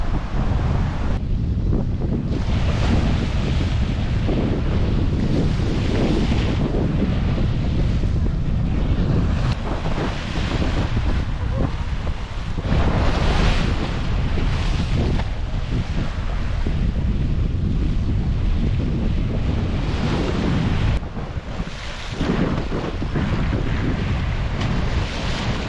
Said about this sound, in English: It's a beautiful morning, but very windy. Waves coming in hard.